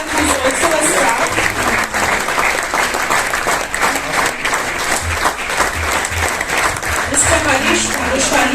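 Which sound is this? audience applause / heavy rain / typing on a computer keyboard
audience applause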